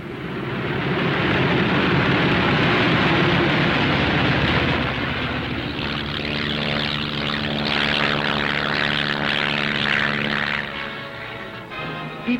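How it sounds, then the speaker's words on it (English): Loud roar of a WW2 military propeller aircraft taking off from an Aleutian airfield on Adak, Alaska, a broad engine drone with steady harmonic tones rising in pitch as it passes, fading slightly near the end, with no talk. "a first flight takes off in the sunrise, others following at regular intervals"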